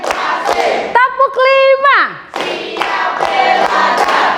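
Group clapping in a counted clap routine, with sharp hand claps in bursts among loud young voices shouting and cheering, a high sliding whistle-like cry in the middle, and steady chatter throughout.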